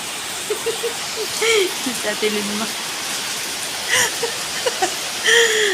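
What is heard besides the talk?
heavy rain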